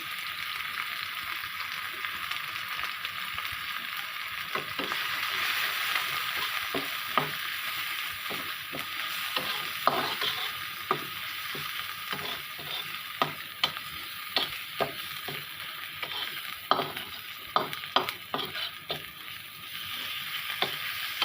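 Spices and turmeric fry in a hot pan, giving a steady sizzle throughout while a utensil stirs and scrapes at intervals, with close, sharp clicks standing out against the constant hiss.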